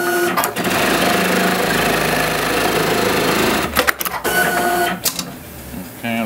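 An industrial sewing machine stitches a programmed pattern with loud, fast mechanical chatter, broken by brief pauses and clunks as the clamp repositions the material.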